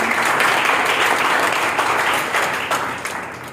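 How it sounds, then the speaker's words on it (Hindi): Loud audience applause during a speech, a thick, close roar of many hands clapping that holds steady and then gradually tapers off toward the end. "एक बार जोरदार तालियां उनके लिए।"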